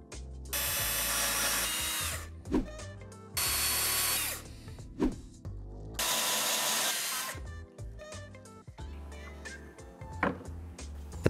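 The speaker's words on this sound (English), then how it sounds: "I need to drill some precisely placed holes to hold the letters" Bursts of a power drill boring precisely placed holes in a glued-up workpiece for mounting sign letters, three long loud whirring runs with short pauses and clunks between them, no talking.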